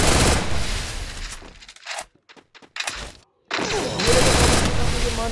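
Gunfire from the video game Garena Free Fire comes as bursts of rapid, punchy shots and thuds. The shots break off into a short near-silent gap, then resume.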